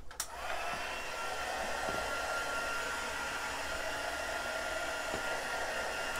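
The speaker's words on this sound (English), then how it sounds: "we're just gonna heat up our tool" A craft heat tool blows hot air in a steady, loud, close whoosh that switches on with a click and runs unbroken to the end.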